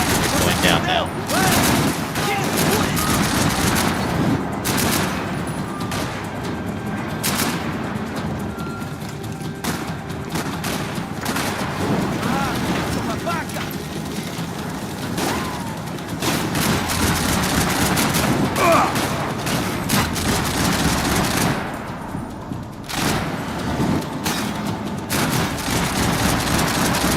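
Light machine gun fire in the video game Max Payne 3, with dense rattling bursts and booms running continuously over a busy battle mix.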